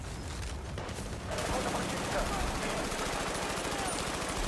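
Automatic gunfire in a multiplayer shooter match comes in dense, rapid, unbroken bursts that grow louder halfway through and keep going to the end.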